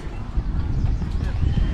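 Horses' hooves clip-clopping up steep streets on Mackinac Island, a quick irregular clatter of shod steps close by, heard under a person talking.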